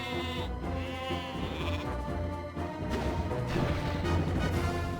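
Sheep bleat in a Warcraft III battle, a few wavering cries over a dense, busy mix of game sound and music that stays fairly loud throughout.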